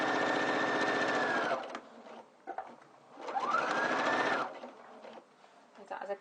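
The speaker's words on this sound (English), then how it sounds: "I'm now at my machine and sewing the back pocket onto the lining of the pocket." A sewing machine stitches a back pocket onto its pocket lining in two steady, loud runs of rapid whirring stitches, each winding down to a stop, with short quiet handling pauses between.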